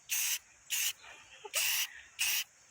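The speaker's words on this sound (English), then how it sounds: "I'm going to spray paint this" Aerosol spray paint can hissing in four short bursts of about a quarter second each, close and steady, with brief quiet gaps between them.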